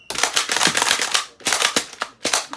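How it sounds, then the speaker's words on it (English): A Nerf blaster slam firing: a rapid run of sharp, loud plastic snaps and clacks in quick bursts, up close with brief gaps between the volleys. "I don't know if this gun can even slam fire, but I'm gonna try"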